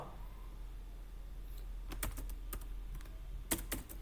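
Quiet background hum, then a few short bursts of computer keyboard keystrokes near the end, crisp clicks in quick clusters with no talking.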